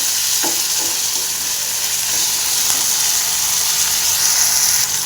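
Tomatoes and masala with a few cashews fry steadily in a pan for a chole dish, a continuous close sizzle with a few faint stirring scrapes and no voices.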